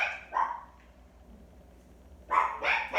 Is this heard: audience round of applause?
no